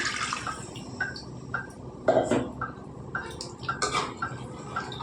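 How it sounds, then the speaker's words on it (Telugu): Water splashes and drips intermittently as a mixer jar is rinsed out, with light clinks and sloshes at close range. "ఇందాక మనం మిక్సీలో పేస్ట్ చేసుకున్నాం కదండి, అది కడిగేసుకుంటున్నాను"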